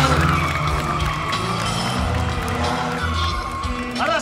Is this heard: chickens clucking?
no